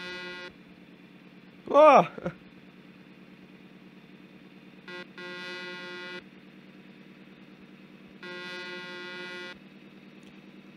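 Truck horn in Euro Truck Simulator 2, sounding in three bursts of a steady harmonic blare, the first short and the next two each about a second long, over a low engine drone, with a brief voiced exclamation between them.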